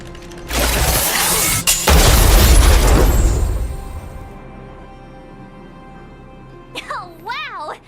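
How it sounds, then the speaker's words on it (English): A loud booming explosion with crackling, mechanical rumble erupts in Honkai: Star Rail, swells, then fades over a few seconds before a brief game voice. "We wiped them all out in a single explosion!"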